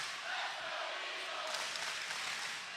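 Basketball crowd in a gym chanting and cheering in a routine against the Bob Jones Bruins, a broad steady roar of many voices at moderate distance with no single voice standing out.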